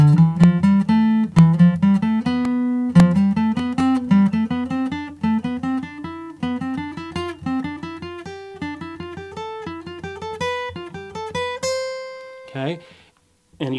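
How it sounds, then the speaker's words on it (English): Single guitar notes climb in a five-note up-and-back scale pattern, each plucked tone ringing clearly with no talk, stepping steadily higher before a brief scrape at the end. "You can even do a five note, up five sort of a progression."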